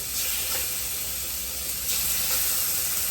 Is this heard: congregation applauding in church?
no